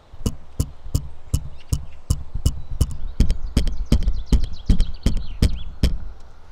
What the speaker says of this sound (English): I'll also tap the stereo bar that the microphones are on.